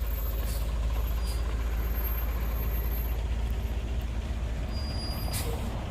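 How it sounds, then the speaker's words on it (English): A bus idles with a deep, steady engine rumble close by, punctuated by short hissing bursts from its air brakes, with no talking over the drone. "A bus."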